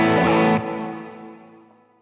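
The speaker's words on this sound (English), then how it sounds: "that's with, obviously, my Always On, my Blues Breaker" A Stratocaster-style electric guitar on its bridge pickup, played through an always-on Blues Breaker overdrive pedal: one driven, slightly compressed chord strummed loud and close, cutting down after half a second into a fading ringing tail.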